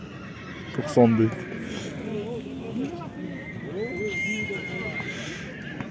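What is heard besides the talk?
horses neighing at a livestock market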